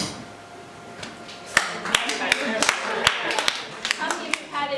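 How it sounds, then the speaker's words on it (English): A single audience member claps slowly and unevenly in a room, sharp separate claps gathering into a loose run over a low background hum of people. "Alyssa's clapping. Slow clap for invasion."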